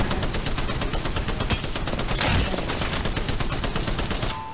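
Rapid automatic gunfire from Bangalore's weapons in the battle-royale shooter Apex Legends, a dense, continuous stream of loud shots lasting several seconds, alone without talk.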